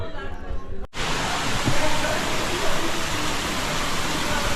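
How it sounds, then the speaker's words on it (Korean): Heavy night rain pours down steadily as a dense, broadband hiss, loud and close, after a brief moment of quieter sound at the start. "빗소리에 깨서 나와봤더니 지금 이래요"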